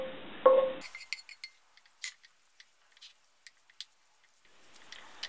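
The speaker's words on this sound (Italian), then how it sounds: "li trasferiamo nella ciotola con l'uovo e il formaggio e mescoliamo" A utensil stirs leek, peas, egg and cheese together in a bowl for a ham quiche, giving sparse, light clinks and taps against the dish in an otherwise quiet room.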